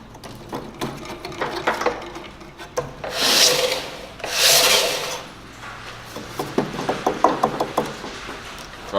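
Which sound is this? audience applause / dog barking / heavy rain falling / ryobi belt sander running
ryobi belt sander running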